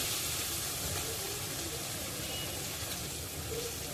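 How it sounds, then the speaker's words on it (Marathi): Steady broadband hiss and sizzle from small fish frying in a hot oil spice tempering, continuous and fairly loud throughout, with no clear breaks. "ही चिवणी या फोडणीमध्ये परतायची आहे"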